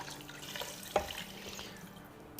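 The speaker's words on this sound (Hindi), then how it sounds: "अब इसमें हम डाल देंगे पानी" Water poured into a cooking pot of paya (goat or beef trotters) for a curry, a steady low splashing rush with a brief louder splash near the start, fairly close and with no talking.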